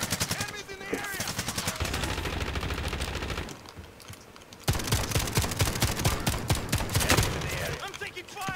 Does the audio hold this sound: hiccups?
no